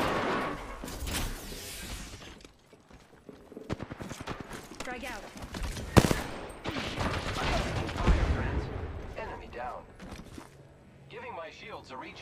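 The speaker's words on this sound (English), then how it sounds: "I'm taking shots. Reloading. Getting shot at." Gunfire in a video game firefight, scattered shots and bursts at varying distances mixed with game callout voices and other effects, with one sharp loud crack standing out near the middle.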